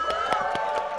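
A live audience cheers at a Sonic the Hedgehog 25th anniversary panel at SXSW, with a steady roar of crowd noise and a few bursts of whoops across the full second.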